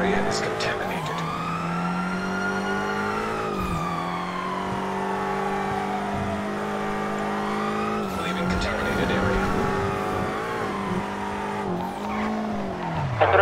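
Engines of McLaren supercars roar and rev in a GTA 5 zombie-survival roleplay, pitch sweeping up and down as they chase, with tire squeals and skids around 8 and 12 seconds; the engine noise stays loud and continuous throughout.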